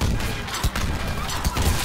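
Saber heavy rifle shots in Mass Effect 3, a few loud booming reports landing at irregular intervals over constant battle noise and rumble.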